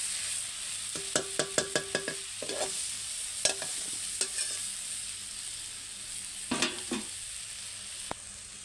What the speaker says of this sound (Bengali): সমস্ত মশলাগুলো ঢেলে দিয়েছি। ভালো করে কষিয়ে নেব।